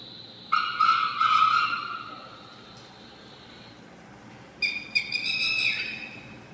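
Wild birds call in forest at Konni ecotourism center: a bright whistled call repeats several times, then falls quiet before another sharper whistling phrase follows, all fairly clear over a soft, steady background.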